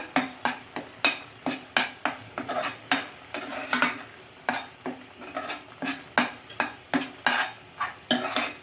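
Ground pepper and cumin powder are stirred and fried in a pan for Punjabi-style rajma masala: a steady run of about twenty quick, scraping spoon strokes against metal, close and fairly loud, with no voices.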